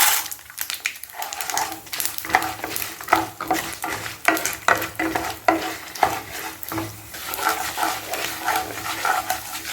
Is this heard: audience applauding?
no